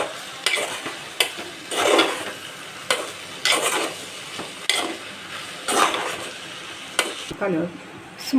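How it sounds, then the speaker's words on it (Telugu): Food is stirred in oil in a frying pan, with repeated scraping strokes and sharp utensil clacks against the pan over a steady sizzle, moderately loud and close, at an uneven rhythm of bursts. "ఆయిల్ వేసిన తర్వాత ఇలా కలుపుకోవాలి, బాగా కలుపుకోవాలి."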